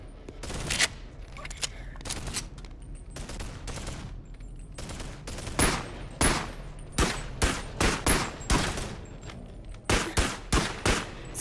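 Repeated gunfire in the VR game Bone Lab, aimed at null rats: bursts of rapid shots and single cracks come in clusters, loud and close, with brief gaps between volleys and no talk.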